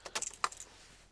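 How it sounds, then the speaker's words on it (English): Keys to a VW Transporter T6 van jangling as they are grabbed, a quick close metallic rattle lasting under a second, with no talking. "If I just grab the keys"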